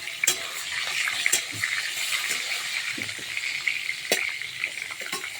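Large fish heads fry in hot oil, sizzling steadily with sharp spluttering pops and crackles scattered throughout, close by and fairly loud.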